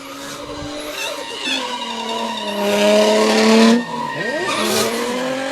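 Drift car at a competition skidding with sustained tyre squeal, wavering screeches rising and falling over a loud engine, intensifying mid-run then easing.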